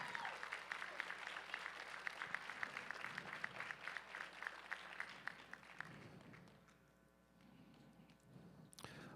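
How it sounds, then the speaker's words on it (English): Audience applause at a USA Powerlifting meet, a steady wash of many hands clapping for several seconds that thins and fades out near the end, with a brief crowd murmur after. "Give these three ladies another round of applause."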